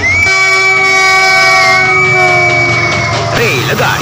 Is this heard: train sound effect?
yes